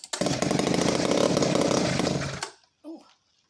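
A vintage Clinton D55 chainsaw runs loud and close with a steady buzzing drone for about two seconds, then cuts out, followed by a short mechanical noise and silence.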